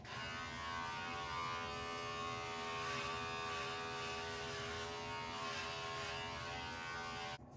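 Remington QuickCut Pro HC4300 hair clipper trimming a beard, a steady, fairly quiet electric buzz held close and continuous throughout with no talking.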